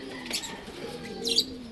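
A pigeon in a racing loft gives two short, soft coos about a second apart, close by and fairly quiet against a faint background hum.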